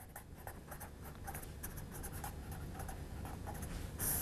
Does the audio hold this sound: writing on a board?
yes